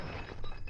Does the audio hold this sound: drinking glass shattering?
yes